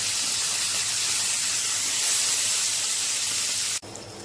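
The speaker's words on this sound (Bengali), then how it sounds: "তরকারির সাথে মাছটা দেওয়ার জন্য তেলে ভাজা নিতেছি।" Pabda fish frying in hot oil gives a loud, steady broadband sizzle and hiss that holds almost unbroken for about four seconds, then cuts off abruptly near the end into a quieter hiss.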